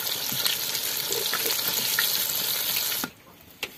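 Fish fries in hot oil at home with a loud, dense, close sizzle and scattered pops, then falls quieter near the end before one last sharp crackle, with no one talking.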